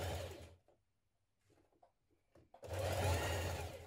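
Sewing machine stitching a 1.5 cm seam on a ruffle dress, running in two loud bursts at the start and end with a quiet pause between them.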